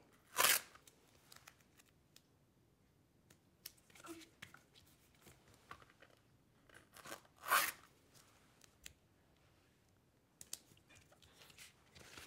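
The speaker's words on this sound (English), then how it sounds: "seal with another piece of tape from the other side" Duct tape is pulled and pressed onto a tissue box to seal it, giving a couple of sharp ripping bursts between softer crinkles and handling noises, fairly close and quiet overall with no talking.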